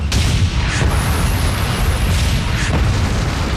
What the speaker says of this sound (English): Ghost Troop fires repeatedly